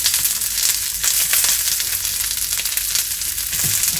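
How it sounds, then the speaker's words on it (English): Onions, carrots and capsicum stir frying in a pan over high heat, a steady, loud, close hiss of sizzling with faint stirring scrapes throughout and no talking. "we have to stir fry this. And here we are keeping the pan on high heat"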